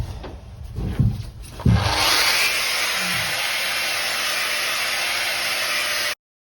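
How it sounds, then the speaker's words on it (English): Stripping tools scrape flowcoat off the hull of a Cruise Craft Galaxy 585 XL boat, a few rough scraping strokes followed by a loud, steady power-tool whine that stops abruptly. "So I've bought just sort of an assortment of different stripping gear from Bunnings."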